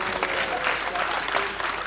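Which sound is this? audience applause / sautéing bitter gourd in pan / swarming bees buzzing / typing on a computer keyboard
audience applause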